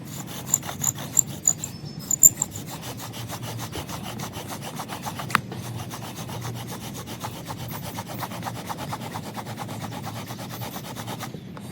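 A bow drill spindle spins against wet wood, making a steady, close, raspy rubbing with a few sharper squeaks and clicks near the start.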